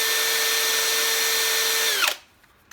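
A Parkside Performance brushless cordless drill spins a bit at steady high speed, a loud close whine that winds down sharply and stops after about two seconds, with no talk.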